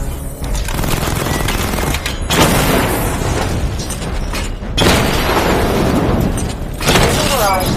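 Batmobile weapons in Batman Arkham Knight fire at targets in a dense, continuous barrage of loud booms and bursts, with brief gaps around the two- and four-and-a-half-second marks before the blasts resume.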